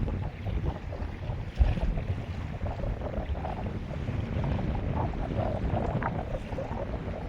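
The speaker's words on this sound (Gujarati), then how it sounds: "પવન બહુ વધારે છે." Strong wind at sea roars around a fishing boat, a steady, loud, broadband rush with no let-up, mixed with low rumble and water noise throughout.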